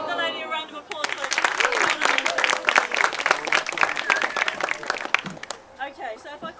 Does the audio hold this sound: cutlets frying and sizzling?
no